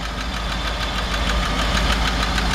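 A 1966 Ford F100 shortbed truck's V8-style engine with a rebuilt carburetor idles steadily nearby, a continuous low rumble with a faint rhythmic ticking throughout and no voices.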